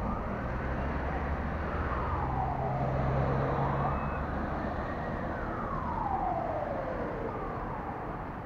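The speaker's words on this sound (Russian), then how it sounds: "Так, едет скорая." An ambulance siren wails in slow rising and falling sweeps as it approaches along a road, steady and fairly loud over low traffic rumble, as picked up by a car dashcam after a traffic accident.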